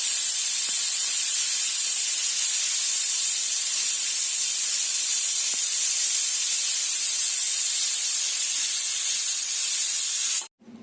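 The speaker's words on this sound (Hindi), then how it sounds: "इसको कुकर में डाल दी हूँ, फिर 6 सीटी लगेगा और हो जाएगा" A pressure cooker holding mutton lets off a strong, continuous hiss of steam for about ten seconds, close and loud, then cuts off abruptly near the end.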